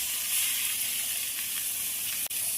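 Chicken mince dropped into hot oil with fried chopped onions sizzles in a steady, close hiss that fills the pan throughout, with a brief break near the end, while a moghlai dish is cooked.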